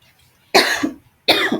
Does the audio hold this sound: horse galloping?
no